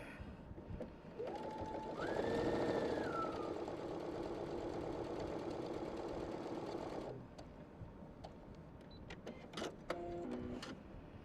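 A Brother PS500 sewing machine runs tiny sample stitches in one continuous, even whir for several seconds, then falls quiet before a few short clicks and beeps from the machine's controls.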